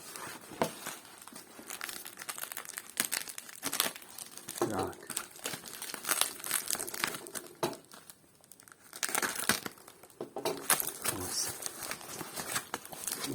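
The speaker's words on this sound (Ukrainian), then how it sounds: "Переріжемо наш скотч." Crinkling and tearing as packing tape on a cardboard parcel is cut, handled close up in short rustling bursts, with a few brief spoken remarks between.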